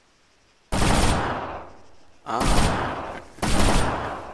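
Three separate loud gunshot bursts in the military shooter ARMA 3, each a sharp crack trailing into a long rolling echo, spaced about a second and a half apart, with a brief exclamation from a player.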